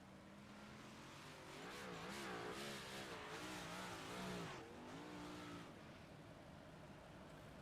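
A race car engine drones and rises in pitch as the car comes around a track in a sim racing game, a steady mid-distance roar with a brief swell before settling, with no talk over it.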